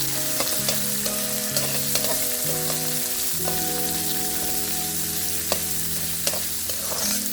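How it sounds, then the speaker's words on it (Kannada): Onion and curry leaves fry in a tempering for oats kara bath, a dense, continuous close sizzle with occasional stirring clicks, heard under steady background music. "ಈಗ ಒಗ್ಗರಣೆಗೆ ಸ್ವಲ್ಪ ಈರುಳ್ಳಿ ಮತ್ತು ಕರ್ಬೇವಿನ ಸೊಪ್ಪು ಏನು ಹೆಚ್ಚಿಟ್ಟಿದ್ದೀನಿ ಅದನ್ನು ಹಾಕ್ಕೊತಾ ಇದ್ದೀನಿ"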